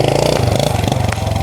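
A motorcycle engine running close by, a loud, even, rapid thumping throb that holds steady throughout, with no voices.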